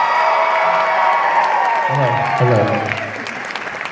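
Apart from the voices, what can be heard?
audience cheering and applauding for a guest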